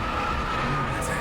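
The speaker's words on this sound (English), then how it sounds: "Bit late on the brakes there from Towers, but it's not too bad." A race car in a racing video game brakes late into the La Source hairpin at Spa, with a dense, loud tyre skid and engine roar filling the whole short moment without a break.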